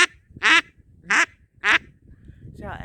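Three evenly spaced, clear quacks from a double reed duck call by Buck Gardner, blown plainly without rasp, near and loud, with a faint voice starting at the end.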